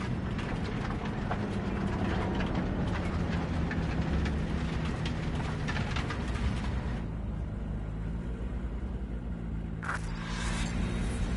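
A train in the game Cyberpunk 2077 rumbles steadily with dense rattling and clatter for most of the stretch, then eases off into a quieter wash near the end.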